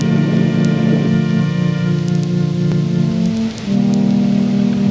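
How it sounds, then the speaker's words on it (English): Steady rain falls as a dense, continuous hiss under sustained tonal hums, holding a constant level for the whole stretch with a brief dip near the end. "It's still raining."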